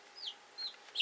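Baby chicks crowded in a home brooder box give three short, high peeps spaced across about a second, soft and close against a quiet background.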